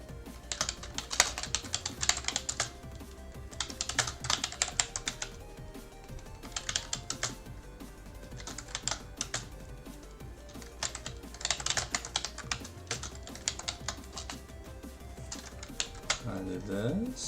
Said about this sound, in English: I can hear the clickety clack here somewhere.